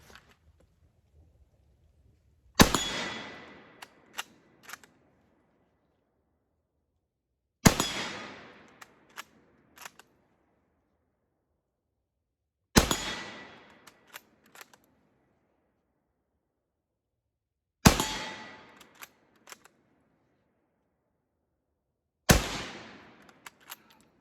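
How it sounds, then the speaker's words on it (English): Five loud, sharp rifle shots from a Japanese Carcano Type I chambered in 6.5 Japanese, fired at a range and spaced evenly about five seconds apart, each followed by a brief echo and faint clicks of the action. "One miss. And it was the last shot, unfortunately."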